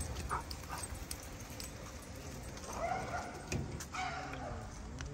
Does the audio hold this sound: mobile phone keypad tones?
no